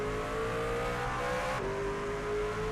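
Race trucks in a sim racing game accelerating hard on a restart at Rockingham, a continuous loud engine drone with rising pitch and a shift midway, no talk.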